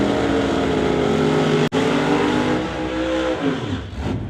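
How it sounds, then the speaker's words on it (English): Drag racing cars roar loudly down the track at DOORWARZ 11 testing, a dense sustained engine blare with a brief cut near the middle before the pitch sweeps as the cars pass. "Should have cars going down track here momentarily."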